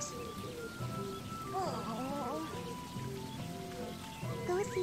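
Steady rain falls in the video game Sakuna: Of Rice and Ruin, a continuous soft hiss beneath game music and a brief voice.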